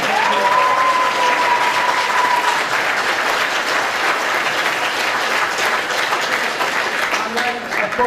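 A theatre audience at a musical comedy claps for the young cast members in a sustained, dense round of applause lasting several seconds, with a voice faintly audible underneath.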